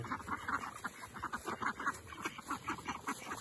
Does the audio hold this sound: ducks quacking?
yes